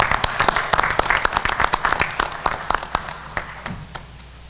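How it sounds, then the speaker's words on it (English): People at a Board of Education special meeting applaud the city mayor, council and city workers, with distinct claps starting strong and gradually thinning out and fading. "I'd like to give a round of applause to all our city mayor, city council,"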